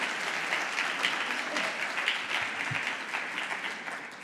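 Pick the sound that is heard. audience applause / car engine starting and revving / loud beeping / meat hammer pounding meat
audience applause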